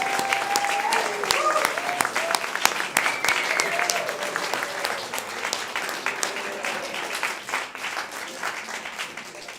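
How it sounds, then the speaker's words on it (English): Members at a congregation's annual informational meeting give their staff a loud, sustained round of applause, with shouts and voices rising over the clapping before it slowly tapers off. "Can we get another round of applause for our staff?"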